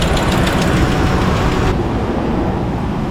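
A Dodge Ram pickup with a Hemi engine and leaking exhaust manifolds runs loud and close, a steady dense rumble with a ticking, raspy edge that drops slightly partway through.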